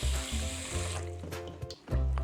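Water from a tap pours steadily into a cooking pot for boiling pork belly for a holiday pochero, a continuous close splashing fill that briefly cuts out near the end before resuming.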